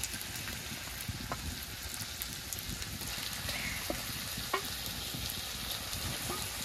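Onions frying together with meat in oil in a pan make a steady, dense sizzle throughout, with occasional louder crackles and pops close by and no talking.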